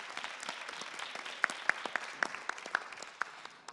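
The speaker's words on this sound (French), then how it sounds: "Merci d'applaudir également Vincent." An audience at a French media and inspiration debate applauds Vincent, a soft, distant patter of many hands with a few sharper individual claps standing out nearer by.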